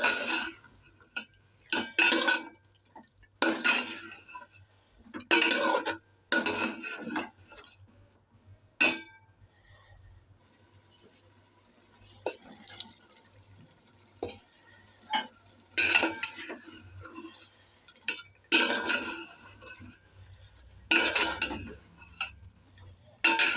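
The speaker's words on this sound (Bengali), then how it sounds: "আমি কিন্তু বেশ ভালোভাবে সব কিছু মিশিয়ে নিচ্ছি" Chicken pieces are stirred and mixed in a pot for biryani, with repeated bursts of scraping and clinking spoon strokes separated by quiet gaps, close and moderately loud over a faint low hum.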